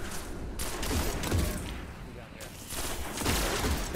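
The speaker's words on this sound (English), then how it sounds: "I did so much firing and hit nothing" Gunfire in Destiny, a string of muffled shots and bursts at moderate volume, partly buried under people talking over the game.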